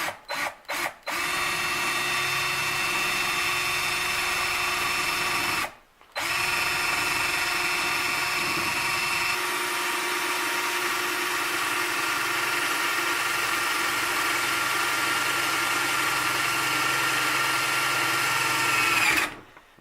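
A power drill whines steadily at close range, drilling through a brass .308 cartridge case, cutting out briefly once, then grinding on continuously until it stops.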